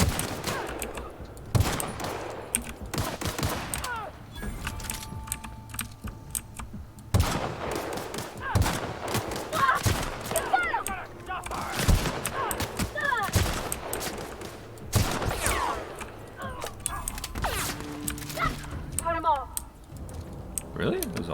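Rapid gunfire bursts from firearms in the video game The Outer Worlds crackle through a busy game soundscape, with people talking throughout.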